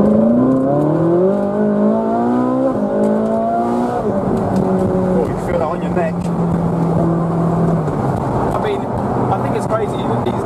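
Ferrari 458 Spider heard from onboard, its engine droning and rising in pitch as it accelerates, then holding a steady note, loud and continuous beneath people talking.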